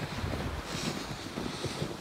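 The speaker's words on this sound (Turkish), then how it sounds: "Hafif de rüzgar var" Steady wind with blowing snow buffets the microphone throughout in a village, a broad rushing roar with low gusty rumbles, close and continuous with no voices.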